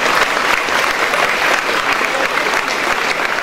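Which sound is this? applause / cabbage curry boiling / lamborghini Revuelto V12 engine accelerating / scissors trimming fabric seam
applause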